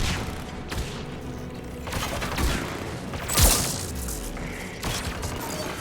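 Anti-aircraft guns fire in a Mass Effect 3 battle against the Geth. Dense, rumbling bursts roll on continuously, with a few heavier booms and a sharp crack partway through.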